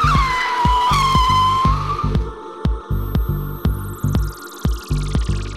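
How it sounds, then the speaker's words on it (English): A motorcycle brakes hard in an emergency stop, its tire squealing in a rising screech, then a run of sharp rhythmic thumps and pulses as the wheel grips and releases, loud and close. "While on the brakes in an emergency on a two-wheeler"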